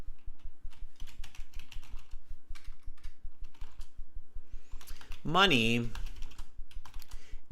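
Steady rapid keystrokes on a computer keyboard run throughout, close and fairly loud, with a brief spoken word breaking in near the end.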